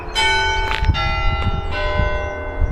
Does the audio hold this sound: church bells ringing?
yes